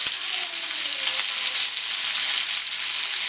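A large sliced onion frying in a pan sizzles loudly and steadily throughout, a dense, close hiss with no pauses.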